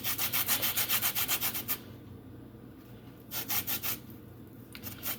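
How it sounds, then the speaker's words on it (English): A lemon is rubbed over a zester while baking, producing a rapid, rhythmic rasping scrape close by, followed by a pause and then a few more short bursts of scraping strokes. "Why is lemon so hard to zest?"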